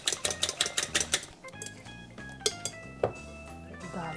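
Pie batter for a quick skillet pie, made with vegetable oil, is stirred with a utensil that clicks and taps rapidly against the bowl, then gives a few scattered knocks, with soft background music underneath.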